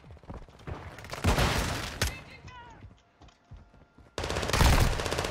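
Automatic MP7 submachine gun fire in Modern Warfare 2, loud rapid bursts at the start and again near the end, with a quieter mechanical gap between them.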